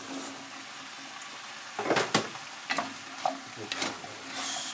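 Parsnips and carrots stirred around in a hot pan, a low sizzle broken by several scraping, rustling strokes of the spoon in an uneven rhythm, close and moderately quiet.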